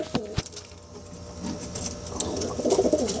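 Birds in a coop at feeding time give scattered soft coos and chirps that grow busier toward the end, with a couple of sharp knocks early on over low background noise.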